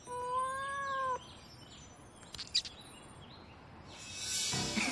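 A cartoon cat meows in a drawn-out, steady cry in the opening second, alone and close, followed by brief scuffling clatter and a rising noisy rush near the end.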